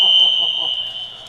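Fire alarm sounding inside a city museum, a loud, piercing, steady high electronic tone held continuously from near by, with faint indistinct background noise beneath.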